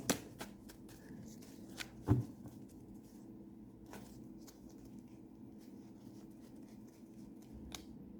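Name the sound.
shuffling fortune-telling cards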